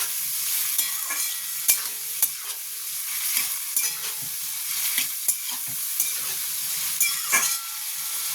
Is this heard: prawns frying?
yes